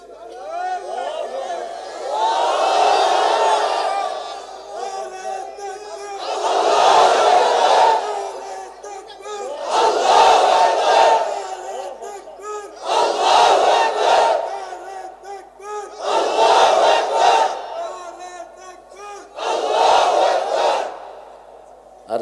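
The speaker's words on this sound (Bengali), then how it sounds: "একটু জোরে তাকবীর দেন।" A large crowd at an outdoor religious sermon chants Allahu Akbar in unison, six loud, swelling shouts that come every few seconds with short pauses between them.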